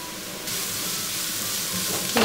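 Carrot drops into a hot frying pan and a loud, steady sizzle rises at once and keeps going, with a brief rattle of stirring near the end.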